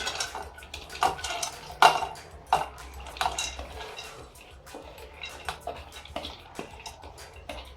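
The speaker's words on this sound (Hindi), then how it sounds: "यहाँ पे आप एक कुकर का डिब्बा ले लीजिए और इसमें दाल को डाल दीजिए" Metal pots and utensils clink and clatter nearby, with a scraping, pouring rattle of lentils dropping into a pressure cooker container; no one talks.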